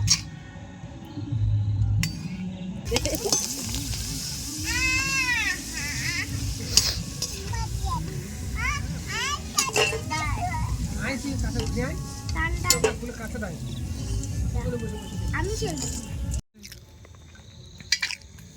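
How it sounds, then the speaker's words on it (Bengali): Papad frying in hot oil at an outdoor picnic cookout, a steady close sizzle broken by clinks and scrapes of utensils against the pan, with people talking over it at times. "এরপর কিন্তু প্রথমে পাঁপড় ভেজে নেব"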